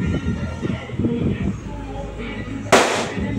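A loud firework or firecracker blast bursts in near the end, sharp and close, after a stretch of people talking over background noise.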